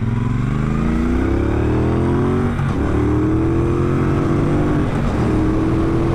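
A 2017 Triumph Bonneville Bobber motorcycle revs and accelerates on the road, its engine note climbing through rising pitch sweeps with a brief dip at each gear change, loud and close under wind rumble.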